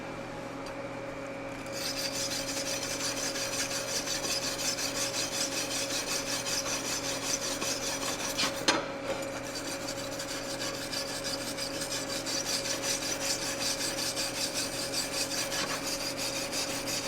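A brush scrubs aluminum before TIG welding, making a steady, close, raspy rubbing that runs continuously, with a short break near the start and a brief knock partway through.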